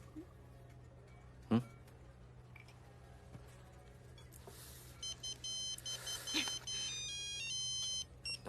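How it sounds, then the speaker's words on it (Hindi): A mobile phone rings with an electronic ringtone in a Bollywood film scene: quiet room tone and a single soft thump, then a run of bright, repeating melodic beeps sounding through the second half. "तुम्हारी माँ का फोन है।"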